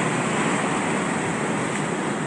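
Ocean waves and surf rolling below a high fishing spot on an Australian coast, a steady broadband wash with wind noise, loud and continuous with no distinct breaks.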